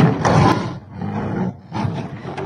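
Two cornered tigers roaring as they attack, rough snarling roars in several loud bursts, close and harsh, with no talk over them.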